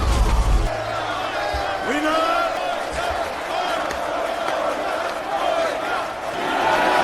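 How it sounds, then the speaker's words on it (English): A crowd roars and cheers around a prison fight, a sustained, loud wash of voices with whoops rising over it, after a heavy thud at the start; a voice talks over part of the noise. "The crowd erupts in cheers"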